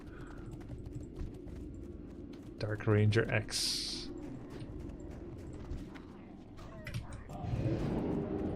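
A horse mount in World of Warcraft Classic, with steady clip-clop hoofbeats running under voices chatting, along with brief game sound effects.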